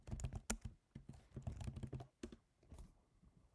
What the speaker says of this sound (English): So I'll type in my password.